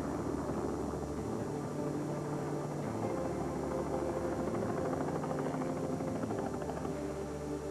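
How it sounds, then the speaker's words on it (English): A rescue helicopter at a skydiving accident scene drones steadily with a low rotor thrum and broadband engine noise, continuous and fairly distant, with no voices. "The paramedics arrived and took over prepping Debbie for the helicopter ride to the hospital."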